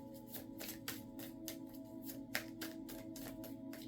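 Tarot cards are shuffled by hand in a steady run of crisp, riffling bursts, close and fairly quiet, with a low background hum and no talking.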